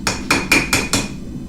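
Five sharp ringing hammer blows on steel while rough shaping a ram's head knife, evenly spaced and close, each with a bright metallic ring that decays after the last strike.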